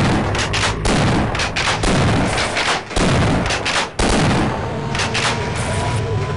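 Loud, dense bursts of rapid gunfire from a bullet-firing gun in the video game Half-Life fill the scene almost without a break, with only a couple of brief gaps between the volleys.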